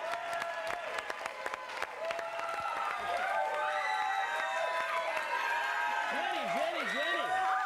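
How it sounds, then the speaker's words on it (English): A studio audience on a show searching for the next Elvira cheers and applauds as a contestant walks on, a sustained roar of claps and shouts mixed with music and voices. "Huge reaction from our crowd!"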